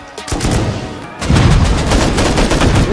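Gunfire in the console edition of Rust, with a rapid, loud volley of shots that intensifies after a brief lull into dense sustained firing, close and continuous throughout.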